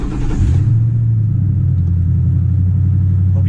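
A 1966 Ford F250 truck engine with a new exhaust fires up and settles into a loud, steady low rumble close by, with a brief higher rush at the start and no talk.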